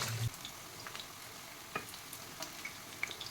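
Raw banana (valakkai) slices frying on a tawa, giving a soft steady sizzle with faint crackles and a clink of a utensil near the start, no talking.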